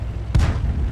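A single tank cannon shot in World of Tanks, fired from the Type 3 Ho-Ni III tank destroyer, a sudden loud boom with a short rumbling tail over a low engine drone.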